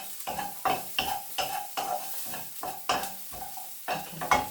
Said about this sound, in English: you need to cook the spices so that the flavour will come out of them